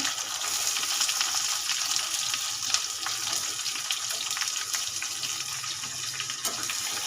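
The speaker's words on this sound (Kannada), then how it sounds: "ಇವಾಗ ಮೆಣಸಿಕಾಯಿ ಫುಲ್ ರೋಸ್ಟ್ ಆಗಿದೆ ಈರುಳ್ಳಿ ಹಾಕ್ತಾ ಇದ್ದೀನಿ" Onion added to green chillies roasting in a pan gives a dense, even hiss that runs unbroken and fairly loud throughout, with a few faint ticks. No voices are heard.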